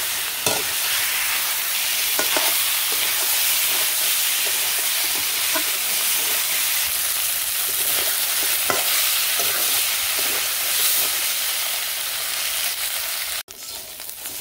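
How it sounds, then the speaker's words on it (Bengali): Meat seasoned with salt, chili and turmeric powder fries in a pan with a loud constant sizzle, broken by repeated scraping stirs throughout, no one speaking. "এই পাশে যে মাংস আমার ভাজা হয়ে গেছে"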